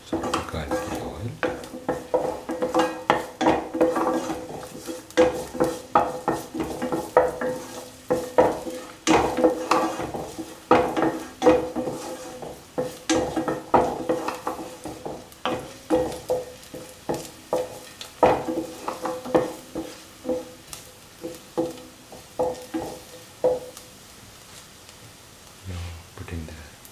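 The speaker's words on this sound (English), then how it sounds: "the garlic in the oil" Garlic fries in oil in a pan while a utensil stirs it, giving repeated knocking and scraping strokes in a steady rhythm over a soft sizzle, close by, with a voice talking over part of it.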